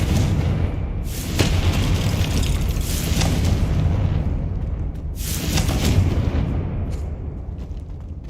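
Confringo fire spell explosions in the Hogwarts Legacy video game, two or three deep booming blasts with roaring, crackling decay over a loud continuous rumble, no talking.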